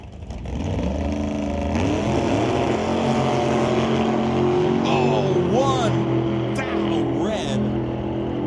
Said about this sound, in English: Twin roadsters. They qualified against each other. Now they race against each other.